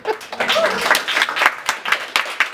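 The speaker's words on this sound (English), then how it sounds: "We're going to bring everyone else back up on here for one last round of applause." A small audience gives a final round of applause, sparse and uneven clapping with distinct individual claps, mixed with brief voices and whoops.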